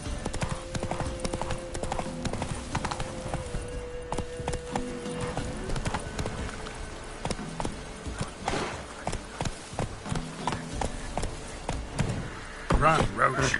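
A horse gallops in The Witcher 3 video game. Rapid hoofbeats clatter on steadily for the whole stretch beneath game sounds and bits of speech, and they grow busier toward the end.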